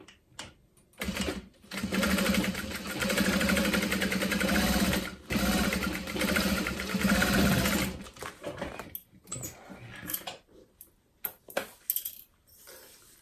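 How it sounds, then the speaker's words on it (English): A sewing machine stitches through tote bag lining panels with a close, steady mechanical whir for several seconds, then slows into short bursts and clicks as it stops. "Clipping it from the other side so that I can follow my basting stitch."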